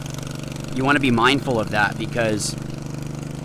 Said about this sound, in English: I'm sorry for the lawnmower in the back.